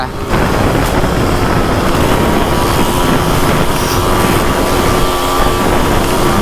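A 1986 Honda MTX 125R, a single-cylinder 125cc two-stroke motorcycle, revs loudly and continuously nearby while riding off-road on a muddy uphill trail, a harsh buzzing roar with a faint voice beneath.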